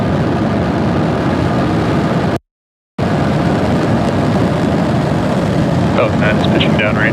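SpaceX Falcon 9 rocket engines roaring at liftoff for the Commercial GTO-1 mission, a loud, continuous broadband rumble that cuts out briefly, then resumes with a voice heard over it.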